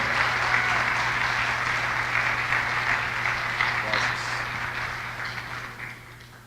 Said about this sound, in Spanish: quiero que le den un aplauso fuerte al Señor